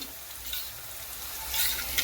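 Onion, ginger, garlic and spice paste frying in a pan with a steady, moderate sizzle, brief stirring scrapes and a slight rise in crackle toward the end.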